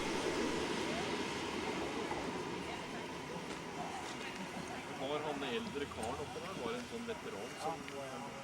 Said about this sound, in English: Next we arrive at Finse, the highest station on the line